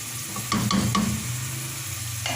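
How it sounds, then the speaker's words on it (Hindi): A spoon stirs onions with tomato paste and ginger-garlic paste in a hot pan, giving a few quick scraping strokes over a soft, steady sizzle, close and clear with no talking. "मिक्स कर देंगे अच्छी तरह से।"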